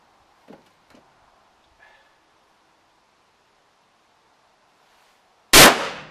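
A single loud, close pistol shot at an outdoor shooting range cracks out near the end, after a few faint clicks and handling noises in near silence.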